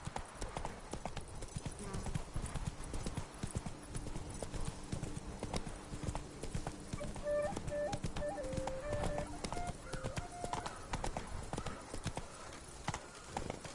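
Hooves of Roach, a horse in The Witcher 3 on PS4, clip-clop in a steady trotting rhythm throughout, close and clear, while voices talk over it.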